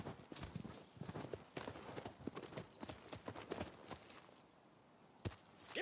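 A horse in the video game Shadow of the Colossus trots with quick, steady clip-clopping hooves, near and fairly loud, the rhythm slowing toward the end.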